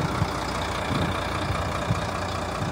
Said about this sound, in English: 12 litre, 420 horsepower Volvo engine